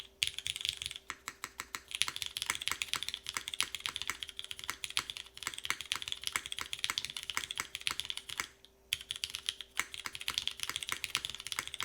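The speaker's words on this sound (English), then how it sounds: "Let's see what this sounds like with cherries. They're vintage cherries, so expect some scratch in this." Steady, fast typing on a Kronos 60% mechanical keyboard fitted with vintage Cherry switches, producing dense, crisp clicks and clacks close up with a few brief pauses and no talking.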